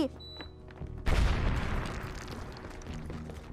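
Planted explosive detonating against a thin wall during a casino heist in GTA V Online: one sudden loud boom that rolls into a long, fading rumble and debris clatter, heard up close after a short quiet stretch.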